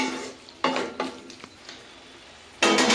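Vegetables with turmeric fry in a pan, giving a hissing sizzle broken by bursts of stirring and scraping, with louder surges as the mixture is turned.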